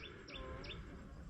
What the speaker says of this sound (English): relax, listen to the birds tweeting